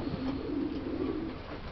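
Original de Klaak racing pigeon cooing in a steady low, throaty drone that carries on without a break, close and fairly quiet.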